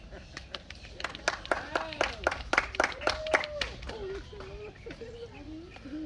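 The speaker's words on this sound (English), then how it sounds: "that clapping did not feel forced at all" Audience clapping at a Florida alligator show, a burst of scattered hand claps building to a peak then thinning out, with a voice talking over the later part.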